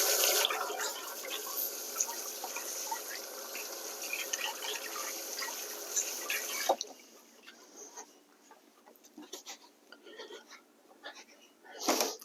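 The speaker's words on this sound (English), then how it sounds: "wash my hands" Hands are washed under a running kitchen tap, a steady splashing rush for about seven seconds that then drops to quieter drips and trickles with a few soft knocks.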